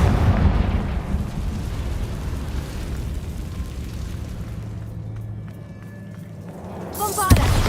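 A Confringo fire spell blasts in Hogwarts Legacy: a heavy booming explosion opens into a long rumbling, crackling roar that slowly fades, ending with a sharp crack, loud and close.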